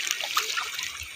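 Floodwater flows in Kottayam, a steady close rushing and trickling hiss with light splashes throughout.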